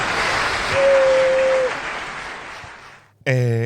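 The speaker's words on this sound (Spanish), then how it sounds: "Y ahora aquí que edición sale el aplauso." Steady wash of studio applause, dubbed in during editing of a Spanish talk-show interview, fills about three seconds at moderate level with a faint held tone through the middle, then cuts away as a voice begins.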